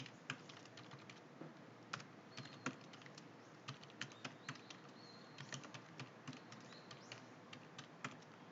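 Quiet computer keyboard keys tapped while editing Excel cells with F2 and Enter, a string of light, irregular clicks with brief pauses, faint and close.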